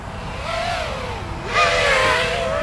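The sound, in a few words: FPV drone motors flying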